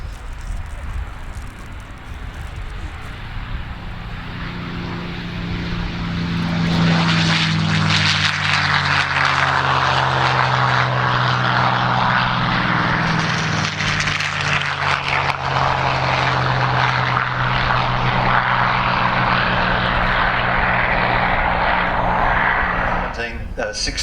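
Commonwealth CA-17 and CA-18 propeller aircraft fly at an airshow, a loud rising engine drone sweeping past and sustaining overhead, with a commentator talking throughout.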